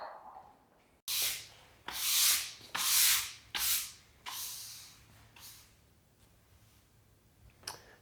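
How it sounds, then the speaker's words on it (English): Grinding on a Ford F100 truck frame, several loud abrasive bursts of a few seconds each, then fainter scrapes that fade out, close by with no voices. "So I'm going to get back to welding and grinding"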